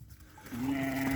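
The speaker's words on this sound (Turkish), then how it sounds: "Ben de arkasından koyunları topluyorum değerli dostlar." Sheep in a flock being herded and gathered from behind, one clear drawn-out bleat rising after a short quiet rustle, close by and alone.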